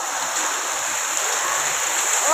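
Hail and rain pour down together in a continuous, even wash of hiss, fairly close and unbroken throughout, with no voices.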